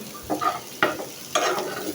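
Bitter gourd (karela) frying in oil in a pan, a steady sizzle broken by about three scraping strokes of a spatula as the pieces are stirred, close up with no talking.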